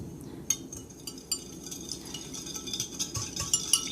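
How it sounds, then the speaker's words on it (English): Honey mustard dressing with canola oil being whisked in a plastic container that held ketchup, with light repeated clinks and rattles of the whisk against the sides over steady kitchen background. "So we're going to whisk this together."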